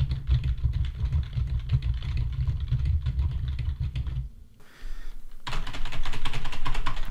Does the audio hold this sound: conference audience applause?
no